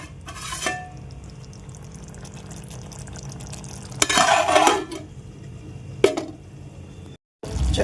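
Tomatoes simmer and cook down in a pan for a Telugu peanut tomato chutney, with soft bubbling under scraping stirs and a few louder clinks of a spoon against the metal pan.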